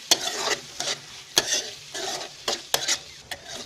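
Onions sautéing in a pan for bhindi sabzi, soft sizzling broken by regular scraping strokes of a spatula about twice a second, close and fairly quiet.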